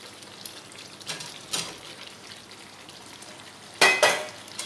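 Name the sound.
fried potatoes stirred into frying chicken masala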